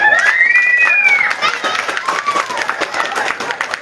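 A festival crowd applauds and cheers for a Romani singer in Poprad, Slovakia, loud dense clapping with shouts and a whistle at the start, thinning into scattered claps.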